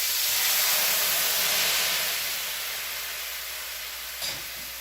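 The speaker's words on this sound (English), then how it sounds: "deglazing the pan with some white wine, lemon juice, and adding just a little bit of butter" White wine hits a hot pan to deglaze it for Parmesan crusted chicken, a loud steady steamy hiss that slowly fades, with a brief clink near the end and no voices.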